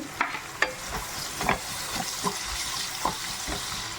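Onions, shallots, garlic and ginger sizzle softly in a pan for a Kerala-style fish molee, with intermittent scrapes and taps as a spoon stirs them and a watery frying hiss underneath.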